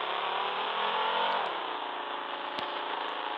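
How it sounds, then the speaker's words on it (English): Car engine in the Roblox game Taxi Boss, a steady synthetic revving drone that holds at high speed and dips slightly midway, even and continuous with a couple of faint clicks. "I'm just gonna speed and do some drifts."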